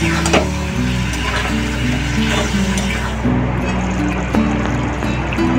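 Prawn curry masala sizzling in a pan as it is stirred and cooked, with a steady frying hiss and scattered scraping taps, and voices and background sounds mixed in.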